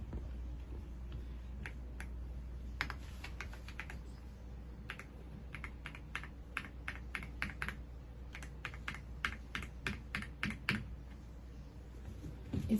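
Keys clatter on a wired USB computer keyboard, first sparse taps, then a quicker run of crisp clicks, close and clear with no voices.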